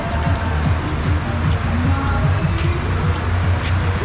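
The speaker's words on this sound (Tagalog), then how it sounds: "Lakas ang ulan eh." Heavy rain falling on a farm, a dense steady hiss and patter that stays loud and constant throughout, with faint low sounds underneath.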